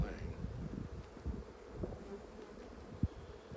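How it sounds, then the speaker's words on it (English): Honeybees hum softly in an open hive during a brood inspection, a low, continuous buzz with rustling and a sharp knock near the end, fairly quiet overall. "Bees have been pretty docile today."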